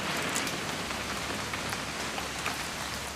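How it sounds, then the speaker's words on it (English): Steady, dense rain pours down without letup in a What Remains of Edith Finch game scene, a close and even hiss with no voices over it. "It's gonna rain the whole weekend,"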